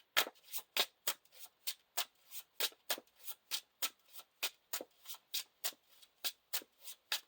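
Playing cards from a Lord of the Rings living card game are shuffled or flicked in a quick, steady rhythm of crisp, papery strokes, close and quiet, with no one speaking.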